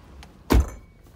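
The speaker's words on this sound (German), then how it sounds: "Und Tür mal hier auch mal zu." A single heavy door thud from a Lincoln Town Car stretch limousine, about 8.4 metres long, being shut from inside, close and short against a quiet cabin.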